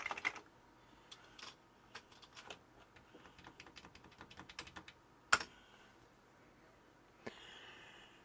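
Typing on a Commodore Plus/4 computer keyboard: a quick run of close, crisp key clicks, then a louder clack and a lone final tap over a quiet room.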